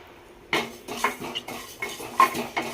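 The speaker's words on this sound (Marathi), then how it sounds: "ड्राय रोस्ट मी थोडं करून घेते" A spoon or spatula scrapes and taps repeatedly against a pan while dry roasting spices such as fennel seeds, in an irregular stirring rhythm, close and fairly clear, with no talking.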